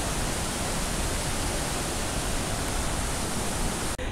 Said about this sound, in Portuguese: Tem uma água descendo aqui, eu vou mostrar para vocês. É bem barro mesmo, porque é água que desce da chuva.